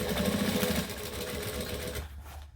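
A sewing machine stitching a bag runs steadily with a fast, even mechanical whir for about two seconds, then stops abruptly and leaves only faint room noise.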